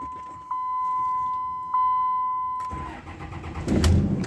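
A 2003 Dodge RAM 3500 pickup, long left sitting, cranks over with a beeping chime running in the background, then its engine catches and roars loudly to life near the end.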